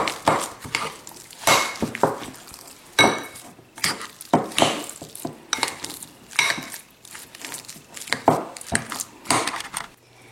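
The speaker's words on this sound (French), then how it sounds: "Et je vais bien mélanger la farce." A stuffing seasoned with salt and olive oil gets stirred in a bowl, with the utensil clinking and scraping against the side. The strokes come in quick irregular bursts, close and fairly loud, with no voices.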